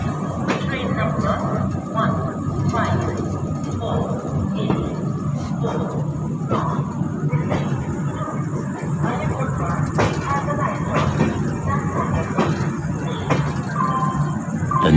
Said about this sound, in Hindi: अब देख लेते हैं हम पंडित दीनदयाल उपाध्याय जंक्शन से हमारी ट्रेन का डिपार्चर।